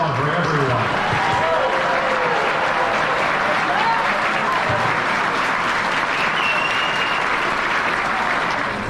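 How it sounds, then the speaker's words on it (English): A large crowd at a breast cancer charity gala for the Housewares Charity Foundation breaks into loud sustained applause, a thick wash of clapping that fills the room, with scattered voices and cheers mixed in. "Now we can applaud for everyone."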